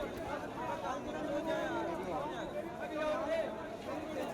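Crowd of village men and women seated at a protest sit-in over a school building collapse, a steady murmur of many voices chattering together at a moderate distance, with no single voice standing out.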